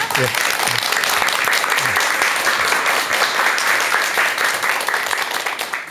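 Audience applause welcoming a lecturer giving a talk on Buddhist practice, a full, steady round of clapping that holds loud and even for several seconds before tapering off at the very end.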